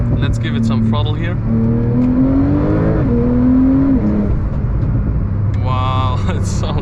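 A TECHART Porsche 911 Turbo S (992, 710 hp) engine revs and climbs in pitch under throttle, loud and close, with a steady drone between the surges.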